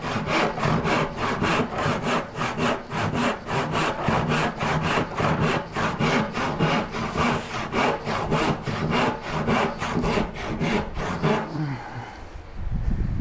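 Hand saw cutting through wood in a workshop, steady back-and-forth strokes in a fast regular rhythm, close and loud, ending with a brief settling scrape after the last stroke.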